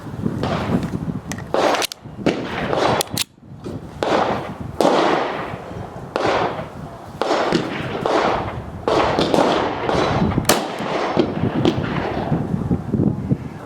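Ten-shot string from a 5.7x28mm firearm loaded with 5 grains of IMR 800X powder and Winchester small rifle primers: loud, sharp cracks at irregular intervals of about one second, each followed by ringing echo.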